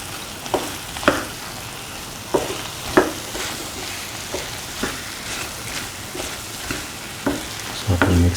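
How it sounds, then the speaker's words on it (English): Plantain and cashew stir fry sizzles steadily in a pan, with a soft continuous frying hiss broken by regular scraping and tapping strokes of a spatula as the pieces are sautéed. "Keep on sauteing for around 15 minutes until plantain and the rest of the ingredients are nicely cooked."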